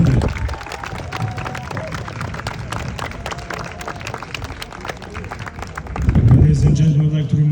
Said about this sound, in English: Please give a good round of applause to our gunner here, Stefano